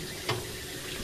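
Tap water runs steadily into a sink during washing, a continuous close hiss of flowing water with a brief splash near the start.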